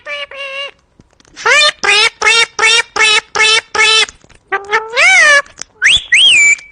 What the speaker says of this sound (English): Listen to this talented bird.